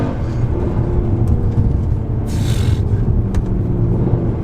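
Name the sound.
Mercedes C63 AMG accelerating in manual first gear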